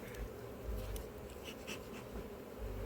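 Honeybees buzz around a hive at an apiary, a faint but steady close drone with no talking.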